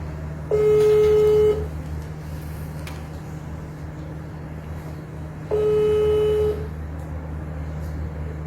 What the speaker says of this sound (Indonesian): Kita telepon Agus ya